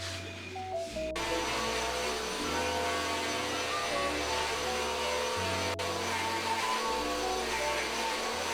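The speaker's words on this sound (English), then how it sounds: "Sorry for the noise. Hubs is currently vacuuming" A steady droning vacuum cleaner runs throughout, loud and close, its motor pitch shifting slightly as it moves.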